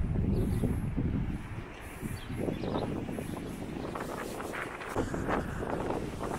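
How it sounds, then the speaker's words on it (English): Wind blowing down a canal in North Wales buffets the microphone with a steady, low, rumbling roar and gusty rustle throughout, with no voices. "The wind's certainly blowing down the canal now."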